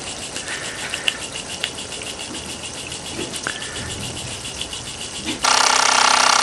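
A Mamod SE2 toy steam engine runs slowly with a steady fine rattling, chuffing mechanical patter, fairly quiet and even, before a sudden loud hissing rush of steam near the end.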